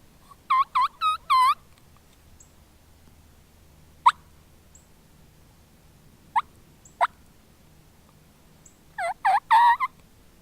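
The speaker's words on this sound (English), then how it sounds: "Sounded like a big group of turkeys, too." Several bursts of gobbling from a flock of wild turkeys ring out at the start and end, with a few single calls between over quiet background.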